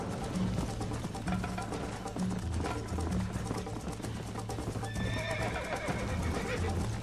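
Horses in Red Dead Redemption gallop with rapid clip-clopping hooves while herding cows, and a horse whinnies loudly near the end, over busy background sound.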